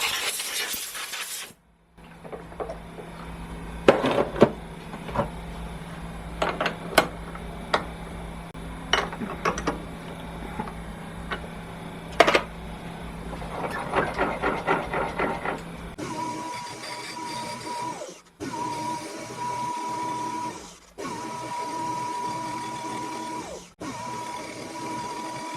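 A metal lathe facing off a part for a 90-degree drive gearbox, a continuous machine hum with scattered sharp metallic clicks and clinks, then a changed steadier running tone with brief dropouts.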